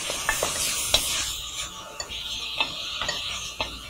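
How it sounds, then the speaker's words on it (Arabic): Spices with parsley and green pepper sautéing in a pot for soup, a bright steady sizzle with several gentle scraping stirs and faint clinks of a utensil, close and fairly loud. "اقلب بس تقليبه بسيطه"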